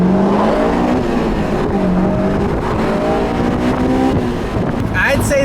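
A sports car's engine revs toward a redline that sits 1,000 RPM lower than on the earlier AP1 model. The engine is loud and close, its pitch rising and falling through sustained revving, and a voice talks over it at times.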